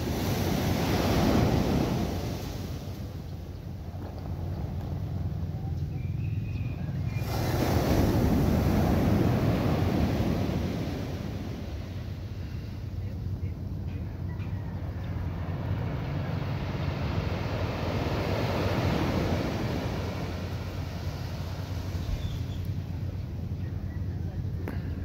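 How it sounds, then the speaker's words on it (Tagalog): Ocean waves surge and crash continuously, growing bigger as the tide rises, with heavy wind buffeting the microphone, a loud, rough roar throughout. "Lumalaki pa rin ang alon kasi nalaki din ang tubig"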